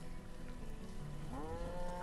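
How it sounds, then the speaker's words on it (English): A cow moos in the farming city-builder game Banished. One low bellow rises partway through and sits under a steady patter like light rain. "We have 3, 6, 7, 8 cows."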